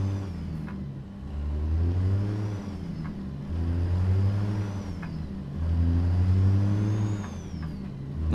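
A Kenworth truck passes in American Truck Simulator, its engine droning loudly in steady, swelling waves, with the pitch rising and falling as it drives by.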